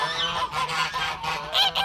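A domestic goose on a French poultry farm gives a few close, nasal honks in quick succession, with a brief louder call near the end.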